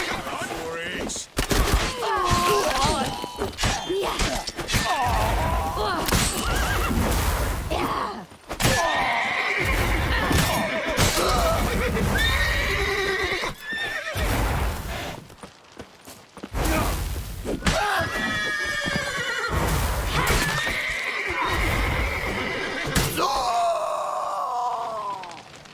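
A horse in the Witcher 3 video game whinnies loudly and repeatedly amid gunfire-like bursts, groans and clattering hooves, all close and intense.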